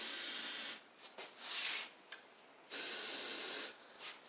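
Short hissing bursts of a carburetor cleaner aerosol can spraying into a Toro Z2550 zero-turn mower's fuel system, three or four sprays of varying length with brief pauses between, close and fairly quiet.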